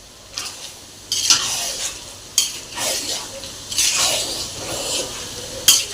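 Vada pav masala dry-roasting in a pan, with repeated scraping sweeps of a spatula stirring the spice mix, each stroke a gritty rasp over a faint sizzle, close up and unaccompanied by talk.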